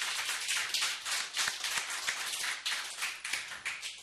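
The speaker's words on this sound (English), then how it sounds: "Give a round of applause to Steve for bringing us to town" Audience at a live music session in Carbondale claps in a dense, continuous burst of applause for Steve, a fairly close, lively patter lasting a few seconds.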